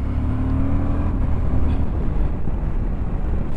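A 2023 Suzuki V-Strom 1050 motorcycle is ridden on the road and slows for a bridge. A close engine drone with a clear tone fades into loud, rushing wind and road rumble.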